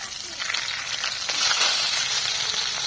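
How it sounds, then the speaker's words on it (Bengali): A hilsa fish head frying in hot oil, giving a steady close sizzle and crackle that swells slightly midway and holds for a few seconds without talk. "চলো মাছের মুড়োটা ভেজে নিই।"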